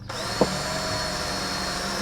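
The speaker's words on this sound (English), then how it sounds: "Right, let's drill this." A power drill runs steadily and continuously into a rod-building workpiece in a workshop, with one short knock early on and no voices.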